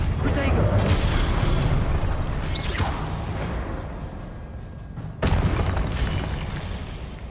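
Magic spell clashes in the video game Hogwarts Legacy: a dense, continuous wash of booming blasts, whooshes and shattering bursts, loud and close, with a sharp new impact near the end and voices mixed in.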